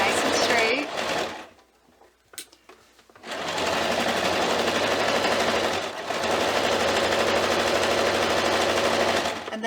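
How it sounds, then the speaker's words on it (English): A sewing machine runs a half-inch seam on a quilted stocking with a fast, loud, rattling drone. It halts briefly for about two seconds and then resumes steadily to the end, with a voice talking over parts of it. "Making sure you're matching those edges as you sew, keeping everything nice and straight."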